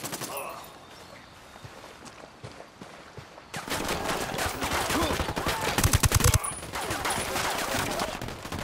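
Rapid bursts of automatic gunfire in the tactical shooter Ghost Recon Wildlands, starting quiet and building into loud, dense volleys after a few seconds, with a heavy cluster of shots near the end.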